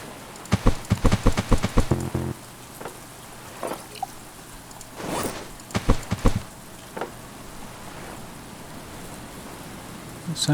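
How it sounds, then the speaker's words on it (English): Rain falls steadily outdoors in the survival game Stranded Deep, a soft continuous patter broken by louder clicks and clatter from in-game actions, with no talking. "It sounds like it's raining again."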